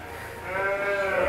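A sheep in a farm pen at a livestock farm in Wonosari, Yogyakarta, gives one close, sustained bleat that wavers in pitch over steady background noise.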